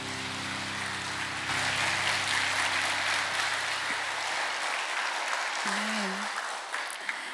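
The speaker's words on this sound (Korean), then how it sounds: "우리를 부르시는 주님 앞에 영광의 박수를 올려드립니다" Church congregation applauding at a Korean praise night service, a broad wash of clapping that fills the room and runs steadily throughout, with a sustained musical tone underneath early on and a brief voice near the end.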